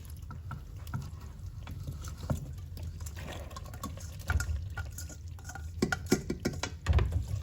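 Hot pasta stirred into a thick mac and cheese sauce in a pot: steady wet squelching and sloshing with irregular sticky clicks and scrapes, close up and moderate in level, no talking.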